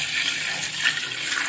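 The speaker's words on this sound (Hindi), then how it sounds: "तो अब हम इसमें डालते हैं पानी।" Water is poured into a pot of fried trotters, a steady, close hiss and splash of flowing liquid lasting the brief moment without pause or talk.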